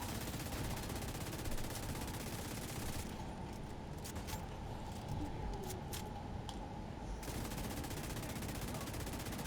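Rapid automatic gunfire in the video game The Division 2, a dense continuous fusillade of shots at steady loudness with no clear speech over it.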